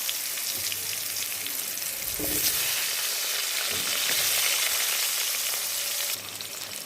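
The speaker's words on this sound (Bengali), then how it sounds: "সেই তেলে এবার আলুগুলো ভালোভাবে ভেজে নেব।" Potatoes frying in oil left over from frying eggplant, a steady close sizzle with crackling spatter throughout, briefly louder in the middle, with no one speaking.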